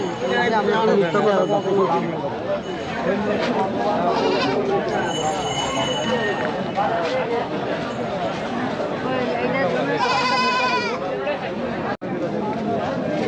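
Goats bleat amid the dense chatter of a crowded traditional village livestock market in Nagarpur, Tangail, with ducks and chickens also sold nearby; a clear, wavering bleat stands out briefly over constant voices and bustle.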